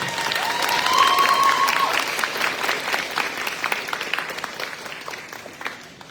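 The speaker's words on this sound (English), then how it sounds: "let's give a little round of applause for Royce" Pageant audience applauds in a steady round of clapping that swells early and slowly fades, with a brief whistle-like tone near the start and no talking over it.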